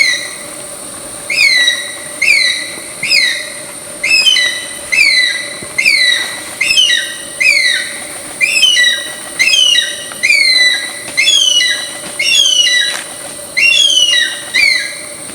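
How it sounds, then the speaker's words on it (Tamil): A Philippine eagle gives loud, high, piercing whistled calls from nearby in mountain forest. The calls repeat as a steady series of sharp, falling notes about every second, with no voices. "சரி இந்த பறவை எப்படி சத்தம் எழுப்புதுன்னு பார்ப்போம்"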